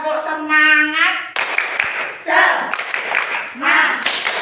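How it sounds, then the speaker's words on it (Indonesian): A classroom group claps out a rhythmic spirited 'tepuk semangat' cheer, sharp bursts of clapping alternating with chanted voices, loud and close. "Kita tepuk semangat dulu."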